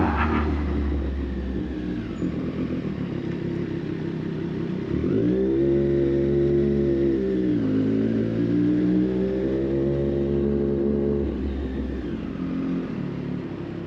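Triumph Street Triple 765 RS motorcycle ridden through city streets, its engine humming steadily close up, then rising in a rev around the middle before settling back to a constant drone, with no talking.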